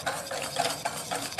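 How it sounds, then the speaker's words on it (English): A whisk works egg yolks and flour into dough for homemade hamburger and hotdog buns, making a brief run of rhythmic, close scraping strokes. "I'm going to add a little bit of flour when I'm still using the whisk"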